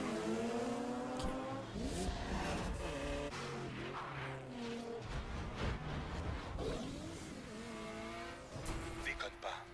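Drift cars in the racing video game The Crew roar and rev continuously, with tire squeal and skidding layered over a dense, loud engine drone throughout.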